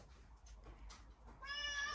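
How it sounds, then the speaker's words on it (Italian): A pet cat in a mountain home meows once, faint and nearby, over a quiet room hum, and a higher, clearer mew follows near the end. "Vieni, vieni, dai, vieni micio bello"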